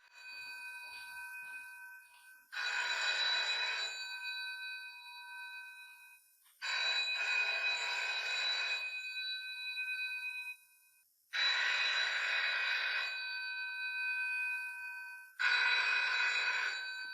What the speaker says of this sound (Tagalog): biglang tumunog ang lumang telponyo